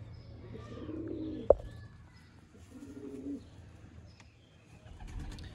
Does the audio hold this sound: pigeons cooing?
yes